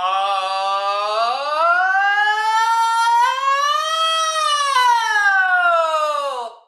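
A single voice slides smoothly upward in one long rising tone into falsetto, then eases back down, imitating a siren as a singing warm-up exercise.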